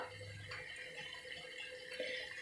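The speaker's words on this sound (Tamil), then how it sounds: "நம்ம தண்ணி நல்லா கொதிக்க ஆரம்பிச்சிடுச்சு" Water in a pot for a pepper, ginger and lemon kashayam bubbles and hisses softly, a faint, steady simmer with small pops and no talking.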